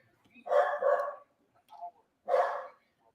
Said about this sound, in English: Oh, why my dog barking?